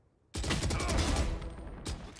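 Pistol gunfire in the video game Valorant comes as a sudden dense burst of overlapping sharp shots, lasting about a second and a half, then a brief second crack, loud and up close.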